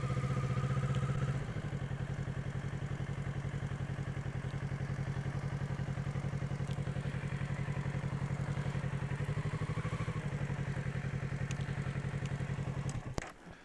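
Motorcycle idling near to the listener with a steady, low pulsing engine chug that drops slightly as the throttle rolls off for a gentle stop, ending with a brief clatter and thump.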